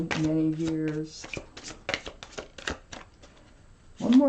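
A deck of tarot cards is shuffled by hand in a run of quick, crisp riffles and flicks, close and clear. A voice hums or speaks briefly at the start and again at the end.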